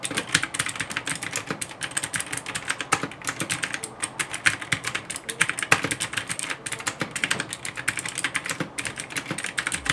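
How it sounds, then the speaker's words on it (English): Rapid, continuous clacking of an Hcman Teamwolf Zhuque mechanical gaming keyboard, loud and close, keys struck in a dense uneven rhythm with no pauses. "Here's a sample for you guys."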